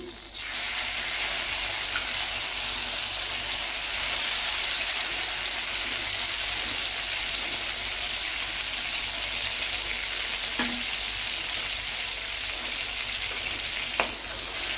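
Ghee sizzles steadily in a hot pan while making laddu, a dense, even crackling hiss that carries on loud and close for the whole stretch with a couple of faint clinks near the end.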